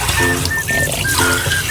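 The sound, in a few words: getting water from the tap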